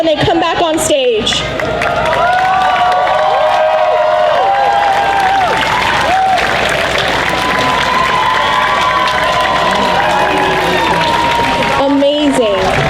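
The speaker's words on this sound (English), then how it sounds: "I want to hear all of your applause for every single cosplayer when they come back on stage" A festival crowd at a cosplay contest on stage at the Orlando Japan Festival in Kissimmee cheers, whoops and applauds loudly and continuously, with shouting voices and an announcer talking over the noise.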